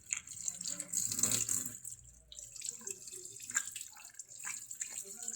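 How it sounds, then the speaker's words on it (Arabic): Tap water running into a raw quail's chest cavity as it is rinsed out to clean the heart area, a steady close splashing trickle in a kitchen sink with no talking. "احط الميه كده جوه واقلبها تاني عشان انضف القلب"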